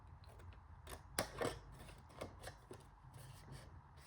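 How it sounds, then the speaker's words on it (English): Scissors snip at an angle through a sheet of 6x6 craft paper for a Christmas treat pouch, giving a few close, crisp cuts with light paper rustle in a quiet room. "I'm just going to angle cut that down just slightly."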